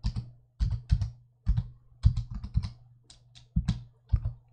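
Someone types on a computer keyboard in short clusters of crisp, close clicks separated by brief pauses, with no talking over the keystrokes.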